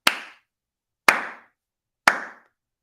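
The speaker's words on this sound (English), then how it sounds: "plug your ears because I'm about to clap" A person claps hands three times in a steady rhythm about a second apart, each a sharp, loud, close slap that decays quickly into silence.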